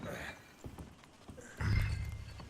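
Horse hooves clip-clopping in Red Dead Redemption 2, a few scattered, fairly soft hoofbeats under people talking, ending in a louder thud and rustle.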